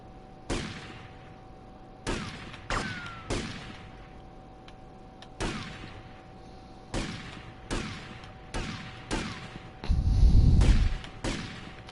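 Gunfire from the game GTA Vice City, about ten separate sharp cracks spaced irregularly across the stretch, with a deeper heavier blast near the end, standing alone with no talking.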